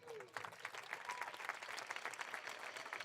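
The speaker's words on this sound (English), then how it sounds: "we can give them maybe an applause after I introduce all of them" Applause from a summer band camp crowd for an introduced instructor, rising quickly after a faint start into steady, moderately distant clapping that continues throughout.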